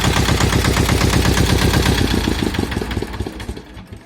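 A Chinese tractor's engine chugs loudly with a rapid, regular thumping beat, then slows and fades as it is shut off.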